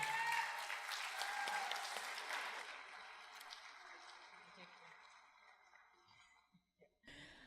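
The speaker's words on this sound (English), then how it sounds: "So give everybody else a round of applause." Audience applause at a country music awards show rings out loud and full at first, then thins and fades to scattered claps before falling nearly silent.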